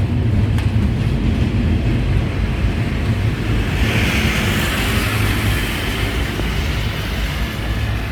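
Freight train cars roll past at Fullerton with no engine in sight, a loud, continuous rumble and rattle of wheels on rails with a brief brighter metallic hiss midway, no voices.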